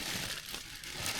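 A plastic bag crinkles and rustles faintly while a backpack is packed outdoors, a brief soft crackling.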